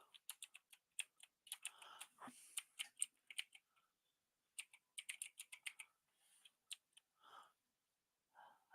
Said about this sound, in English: So, yes, I'm typing up a poll.